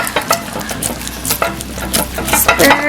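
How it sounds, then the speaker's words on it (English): Lavender slime made from Daiso antibacterial hand soap being stirred, a close, fairly loud run of wet, sticky squelches and scrapes at an uneven quick rhythm, with no talk. "And let's stir it."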